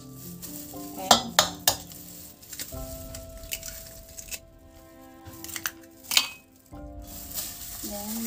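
Tofu cheesy stick filling of garlic, onions and evaporated milk being mixed in a bowl, with clinking utensil scrapes and a few sharp taps of metal against the dish over a faint background hum.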